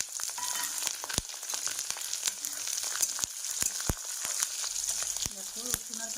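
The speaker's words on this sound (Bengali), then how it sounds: "এবার দিয়ে দেবো রসুন আর কাঁচা লঙ্কা" Garlic and green chilies fry in a pan with a lively, close sizzle, broken by sharp clicks and taps of a utensil against the pan.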